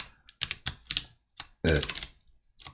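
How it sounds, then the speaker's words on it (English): Someone types on a new computer keyboard in quick, uneven bursts of clicks with short pauses, close up, with some speech mixed in. "I actually got a new keyboard, and I think it'll be a little less clicky too"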